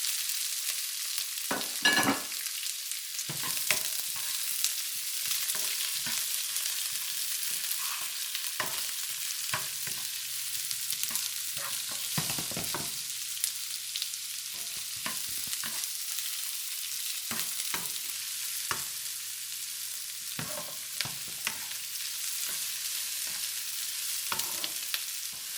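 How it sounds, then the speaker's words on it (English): Onion and carrot frying in a pan, a continuous bright sizzle broken by repeated stirring scrapes and clatters, close and steady with no voices. "You know when you fry them, and you put the onion in it, and also the carrot."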